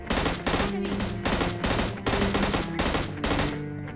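Gunfire in the mobile battle-royale game PUBG Mobile Lite comes as rapid, loud automatic bursts of roughly half a second each, firing in quick succession with barely any gap, close and dominant.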